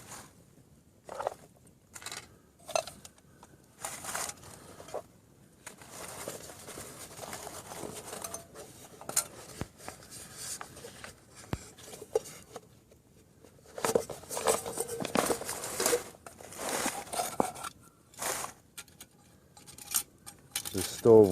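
A vintage Svea camp stove, over 30 years old, and its pot being handled: intermittent light metallic clinks, taps and rattles close by, in scattered bursts with quiet gaps, some brief speech between.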